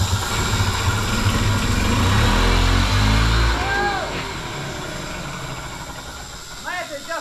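A 1980s Harley Davidson golf cart engine runs rough and loud at close range, a steady droning idle that swells as it is revved, with a voice speaking over it partway through.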